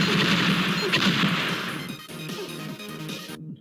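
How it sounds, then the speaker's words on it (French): Meteor Shower special weapon striking in the Gravitee Wars video game: a loud, dense burst of crashing, explosive impacts that fades after a couple of seconds into lighter scattered rumbles before cutting off. "Je vais utiliser mon Meteor Shower sur la planète d'à côté"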